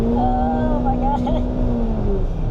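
A 2019 Honda Fit EX CVT accelerates from the cabin with a steady, rising engine drone whose pitch climbs and then steps as paddle-shifted gears change, loud and close under a brief voice.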